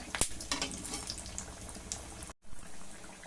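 Bottle gourd pakoda sizzle in hot oil with a busy, crackling hiss and a few sharper pops, close and fairly quiet. The sound cuts out briefly near the end.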